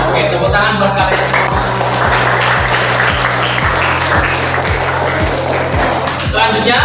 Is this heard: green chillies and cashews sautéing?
no